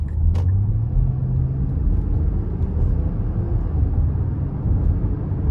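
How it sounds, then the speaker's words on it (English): A 2024 Nissan Pathfinder SL with a V6 and nine-speed automatic accelerating hard onto an interstate: steady, loud engine and road rumble with a rising drone, continuous throughout and without any talk. "I can kind of put my foot to the floor getting on the interstate."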